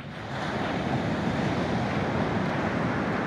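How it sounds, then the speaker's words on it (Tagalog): Ocean surf rolling in at Dinadiawan beach, a steady broadband roar of breaking waves with wind buffeting the microphone, loud and continuous with no voices. "Ang ganda ng alon nyo, oh."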